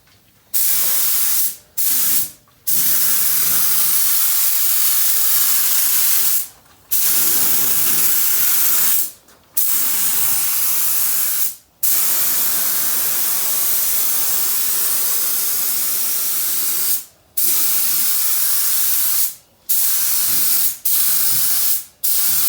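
Spray gun hissing steadily in long bursts while painting the body of a 1985 Volkswagen Vanagon Westfalia, each pass a loud, close, broadband spray broken by brief pauses between strokes.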